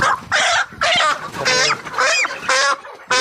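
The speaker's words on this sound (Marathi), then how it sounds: "अशा प्रकारे इथे कोंबड्या आहेत" Chickens on a poultry farm cluck in a steady series of short, harmonic bursts, several birds calling close by with brief gaps between calls.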